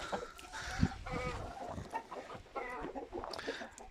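Chickens cluck and murmur softly in a farmyard, a scatter of close, overlapping calls and low chatter throughout.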